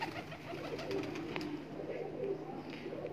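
Pigeons cooing, with soft, repeated low coos over a steady background hum and no clear talking.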